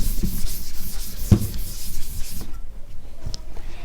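Writing is rubbed off a board with steady, scratchy back-and-forth scrubbing for a couple of seconds, then it stops, leaving a faint room hush with one light tap.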